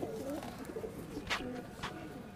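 Malwai pigeons coo softly and close by in a low, repeated, throaty rhythm, with faint background noise and a couple of brief brighter rustles.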